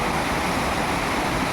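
Heavy rain pours steadily while water runs off a building and floods the streets, a dense, unbroken hiss of rushing water that fills the whole stretch with no voices.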